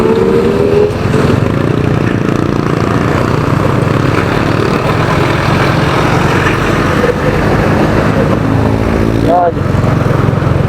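Motorcycles ride past on a road on the way to Cavite, their engines blending into a steady, loud traffic and wind roar that holds for the whole stretch, with a brief rising whine near the end.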